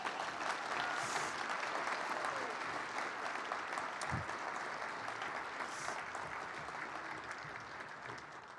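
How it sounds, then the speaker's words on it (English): Steady applause from a large audience fills the whole stretch, dense and even, tapering slightly near the end with no voices on top. "Now you may applaud."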